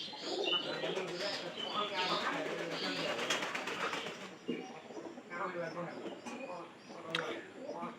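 Domestic pigeons coo softly from a loft amid light chirps, with a voice talking over them much of the time.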